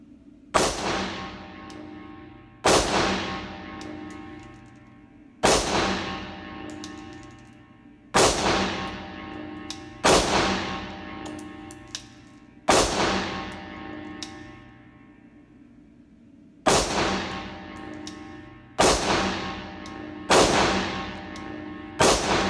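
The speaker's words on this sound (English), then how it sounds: "Put some more rounds down range." Ruger AR-556 MPR rifle firing a magazine down range outdoors, loud sharp reports in a steady series of about nine shots spaced a couple of seconds apart, each with a ringing decay, no talking.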